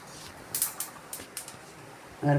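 Sesame seeds roast in a pan for homemade iron-rich idli podi, giving a handful of faint, sharp pops and crackles spaced irregularly over a low background hiss, ending with a brief louder sound.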